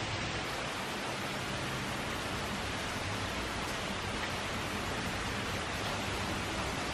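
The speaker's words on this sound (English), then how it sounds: "This is without a doubt the biggest storm I've ever seen while living here." Heavy rain from a powerful storm pours down outside a porch, a constant, dense hiss of water filling the whole clip without letting up and with no voices over it.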